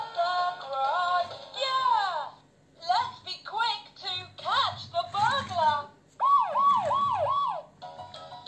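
A VTech Go Go musical toy police car siren plays electronic wailing and warbling tones in bursts, shifting between several patterns, fairly close.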